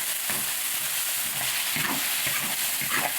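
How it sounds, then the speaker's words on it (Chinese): Garlic, onion, and green and red chilies stir-frying with chili bean paste in hot oil, a steady broad sizzle with scraping stir strokes near and loud throughout, no voices. "油烧热，放大蒜、洋葱，再放青红辣椒，放点豆瓣酱在里头，炒出红油来"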